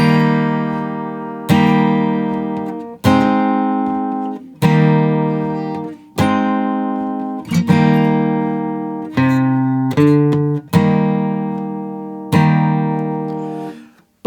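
Acoustic guitar plays a song's verse chords, ringing strummed chords struck once every second or two and left to sustain, close, loud and clear without speech.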